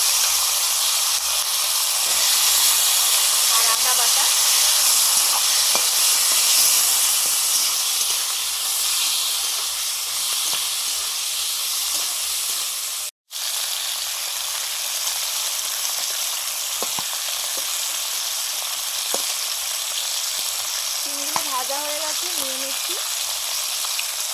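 Potato, eggplant and flat beans fry in mustard oil in a pan with dried chili and five-spice, giving a loud, steady sizzle and hiss that runs almost throughout, broken by one brief cutoff, with a few faint scrapes.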